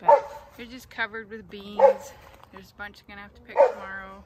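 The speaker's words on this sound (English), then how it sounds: "Got a big old neighbor dog, barks all the time." A big neighbor dog barks three times at a steady spacing in a garden, a bit off in the distance, while a person talks over it.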